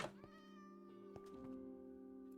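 Several cats meowing in a blocky survival sandbox video game, a steady overlapping chorus of tonal mews that sustains across the whole moment, fairly loud and close with no talk over it.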